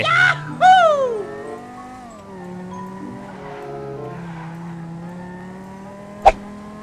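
Car driven in GTA V roleplay: an engine revs with rising and falling pitch through gear shifts, then holds a steady hum, with a sharp click near the end.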